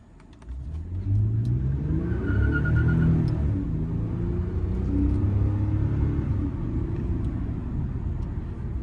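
A 2015 Toyota Venza V6 SUV accelerating hard from a standstill, a steady low engine rumble building and holding as it pulls away, heard from inside the cabin with no talk.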